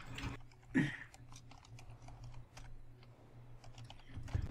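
Computer keyboard keys clatter in quick irregular bursts of close clicks and taps, with a few louder strikes, over a low background hum.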